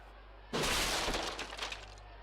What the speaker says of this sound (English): Right into that table, smashing it again.